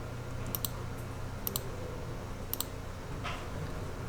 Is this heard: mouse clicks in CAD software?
yes